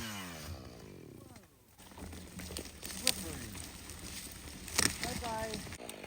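A chainsaw bucks a log on muddy ground outdoors, its engine rising and falling as the bar works through the cut, close and fairly loud, with someone talking over it.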